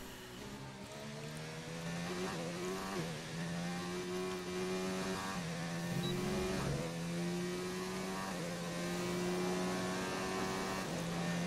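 Formula 1 race car engine in F1 2019 on a qualifying lap, a steady high-pitched whine that climbs through the gears with repeated rising sweeps and brief dips at each shift, with no talk.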